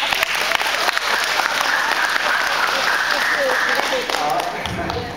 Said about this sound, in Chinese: 让我们一起鼓掌感谢他们